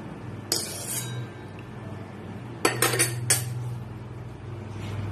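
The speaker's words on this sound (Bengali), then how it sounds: "তেলটাকে এবার আমি একটা বাটির মধ্যে রেখে দিচ্ছি।" Metal bowl clinking and clattering as heated mustard-type cooking oil is poured in for mango pickle, a few sharp metallic knocks over a quiet kitchen background with no talk.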